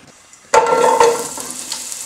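Diced red onion hitting hot olive oil in a large saucepan: a sudden loud sizzle bursts in after a quiet start, then settles into a steady crackling fry, close by with no voices.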